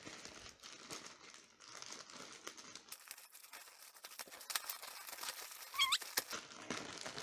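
Wrapping being pulled open on a parcel of puzzle cubes, with soft crinkling and rustling of plastic and paper, a few squeaky scrapes, close and quiet, no voices.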